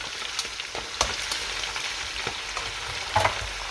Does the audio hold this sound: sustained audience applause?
no